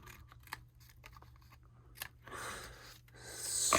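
Scissors snipping through craft card, a few sharp close cuts in quick succession followed by a longer continuous slicing run, with no talking.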